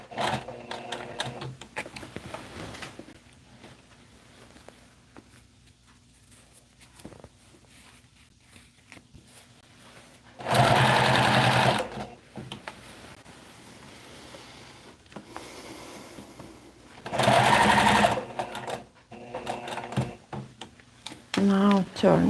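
A sewing machine stitches fabric in two loud, steady bursts of about one and a half seconds each, separated by quieter handling noises while the fabric is shifted and turned.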